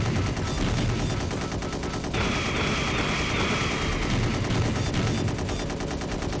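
Continuous rapid gunfire from enemy ships' guns in Gun Metal, a dense unbroken rattle of shots at steady loudness throughout, with a brighter hiss layered in from the middle onward.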